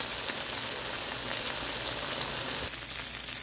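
Chicken steak seasoned with salt and pepper fries in a pan with a steady, close, crackling sizzle that runs without a break.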